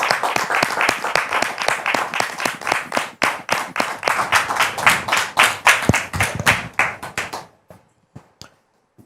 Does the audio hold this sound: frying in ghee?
no